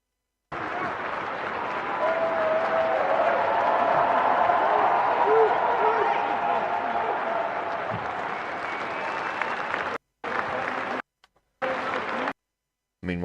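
Sustained applause from a large audience at the Labour Party Conference, clapping for Reeves, loud and steady for about ten seconds before breaking off into short bursts.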